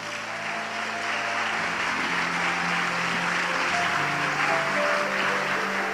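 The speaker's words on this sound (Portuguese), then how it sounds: "Pode aplaudir o Senhor Jesus." Congregation at a celebration worship service claps in sustained, even applause, with a held musical tone or organ-like chords underneath throughout.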